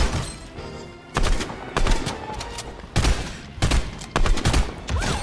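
Rapid bursts of video-game gunfire in Fortnite arena play crackle in clustered volleys, loud and dense over busy game sound.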